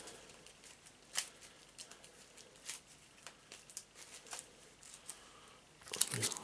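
Cards from the Moonstone board game are shuffled by hand on a tabletop, making soft scattered flicks, rustles and light taps that build to a brief louder riffle at the end, quiet and close, with no talking.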